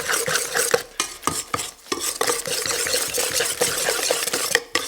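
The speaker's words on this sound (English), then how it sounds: "This is just plain strong white flour. I'll mix that in. Give it a stir." Plain strong white flour is stirred into a wet bread starter mixture in a bowl, producing close, rhythmic scraping and squelching strokes with soft clinks of the utensil, and no talking.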